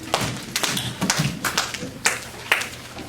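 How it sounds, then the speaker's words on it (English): A group of children in a classroom claps their hands, with a few separate sharp claps and light taps scattered unevenly rather than in a tight triple, close by and moderately loud with no talking. "If you're ready, clap your hands 3 times."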